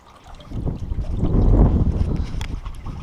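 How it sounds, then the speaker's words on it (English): Water poured into the coolant system of a Corsa VXR Nurburgring Edition, a low gurgling, sloshing rush that builds and swells in the middle before easing slightly, close and fairly loud with no talk. "Let's put less of this water in."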